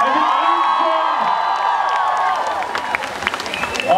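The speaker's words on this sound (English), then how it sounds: "Give yourself a huge round of applause" A large youth summit audience in a Bangalore hall breaks into loud, sustained applause with cheering, whoops and high shouts layered over dense clapping, continuing steadily throughout.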